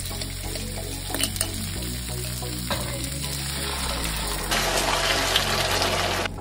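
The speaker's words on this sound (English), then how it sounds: "Pour the sweet and sour sauce" Sweet and sour sauce hits a hot pan of cooking peppers: a close, steady sizzle with gurgling and liquid sounds that grows brighter and louder as the pour continues near the end.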